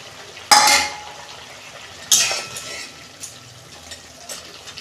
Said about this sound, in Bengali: এটা একটু ফুটে গেলে আমি মাছগুলো দেবো দেখুন বন্ধুরা আমার এটা ফুটে গেছে আমি দিয়ে দিচ্ছি